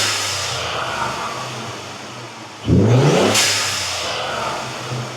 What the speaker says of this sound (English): the blow noise is the blow-off valve, and obviously all the other noises is obviously the exhaust